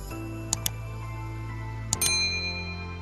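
Notification bell dinging: a couple of bright, clear metallic dings with quick repeats, ringing out over a steady low hum.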